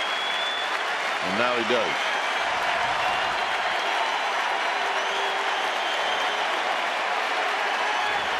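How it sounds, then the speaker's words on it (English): A baseball stadium crowd applauds a pitcher as he leaves the mound, a broad, steady roar of clapping heard at a distance under close commentary from a broadcaster. "the folks here are already applauding Barry Zito"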